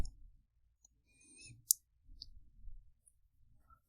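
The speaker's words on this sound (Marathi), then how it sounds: "मॉर्फ ट्रान्झॅक्शन याच्यावरती आपल्याला क्लिक करायचं आहे" A single sharp computer mouse click rings out once, quiet and close, against near silence, selecting a PowerPoint transition.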